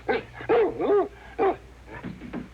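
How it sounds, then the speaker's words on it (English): Cartoon dogs bark and yip in a quick cluster of close, loud barks, then trail off into softer whimpering yelps. "What's the matter with you dogs?"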